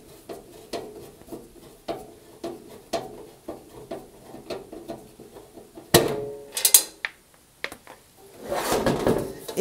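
A screwdriver works the last screw holding the drum of a Hoover tumble dryer, giving a run of rhythmic ratcheting clicks, then a louder metallic clatter and scraping as the part comes free.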